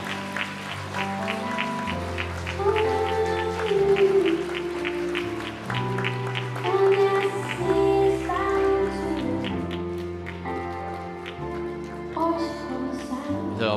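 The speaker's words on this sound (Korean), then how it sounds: "여러분 다시 한번 더 큰 박수로 우리 신부님 환영해 주시기 바랍니다" Wedding guests in a hotel hall applaud to welcome the bride, a rain-like patter of clapping running beneath loud, steady music for the whole stretch.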